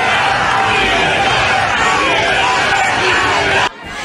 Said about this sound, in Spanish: Saludó a un centenar de simpatizantes que la recibieron con una ovación y gritos de libertad